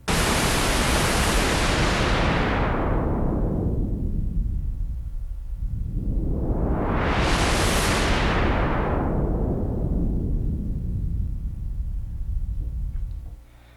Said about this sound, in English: you'll hear first the highest components of pink noise being attenuated, then the highs and the middles, and then everything except the lows